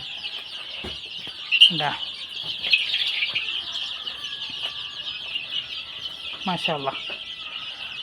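A flock of young chickens about twenty days old peeps and chirps continuously, with a few louder squawks and brief wing flaps, while a person speaks briefly nearby.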